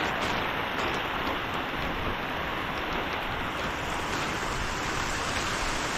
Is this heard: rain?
yes